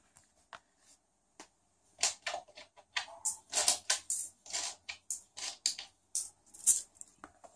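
Small coins dropped into a mini wallet clink and tap in quick bursts of light metallic clicks, close by and quiet, after a few isolated taps.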